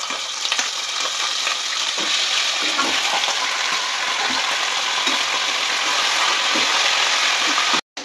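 Chicken pieces frying in hot oil with whole spices for a Ramzan haleem, giving a steady, loud broadband sizzle with faint stirring clicks throughout and a sudden brief cutoff near the end.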